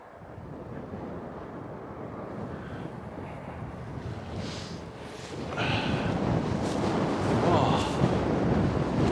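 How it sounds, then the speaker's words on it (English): Wind blowing across open farmland on a near-freezing hike, a steady rushing roar buffeting the microphone that grows louder and gustier in the second half. "Oh, definitely breezy."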